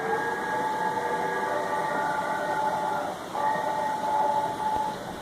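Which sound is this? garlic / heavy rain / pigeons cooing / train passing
train passing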